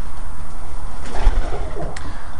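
Soft, low cooing from a pigeon hen in a coop rises and falls close by over a steady background rumble, with a faint sharp click near the end.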